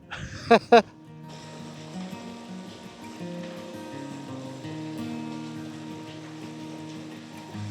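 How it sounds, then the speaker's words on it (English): A small waterfall on a burn beside a footpath near a bridge in Scotland gives a steady, even rushing of water after two brief clicks at the start, continuous and moderately close. "There's a bonny wee waterfall here just before crossing the bridge over the burn."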